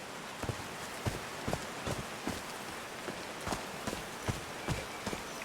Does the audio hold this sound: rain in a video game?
yes